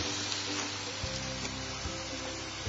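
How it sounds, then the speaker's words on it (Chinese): Beef cooking on a barbecue grill pan, a soft continuous sizzle and crackle with faint low hum underneath, close and without talk. "这个牛肉呢不能烤得太老了哈，一定要烤那种嫩嫩的。"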